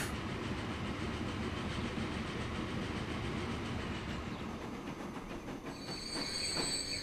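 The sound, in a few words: trains running on rails in the video game Transport Fever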